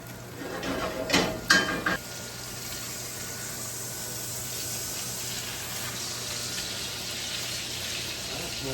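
Butter basting a steak in a hot pan: a few loud scraping, clattering spoon strokes early on, then a steady soft sizzle hiss continues alone to the end.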